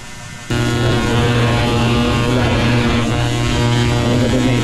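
A fuel injector cleaning machine switches on abruptly and runs on an NMAX scooter's injector, giving a steady loud electrical hum with a constant drone that stays unchanged to the end.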